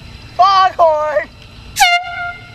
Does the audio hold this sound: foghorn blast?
yes